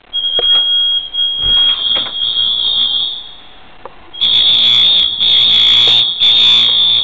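Apartment building fire alarms sounding in a hallway, a loud piercing continuous tone that dips briefly, then resumes with pulsing, layered alarms close by.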